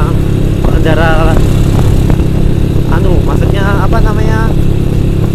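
Motorcycles and private vehicles pass along a winding, dark road, engines droning loud and close throughout. A steady dense rumble is broken by several higher whining revs as individual bikes go by.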